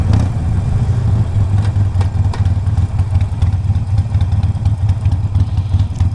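A 2007 Harley-Davidson 883R motorcycle engine runs close by, loud and steady, with a throbbing low rumble and a faint mechanical clatter throughout and no talking.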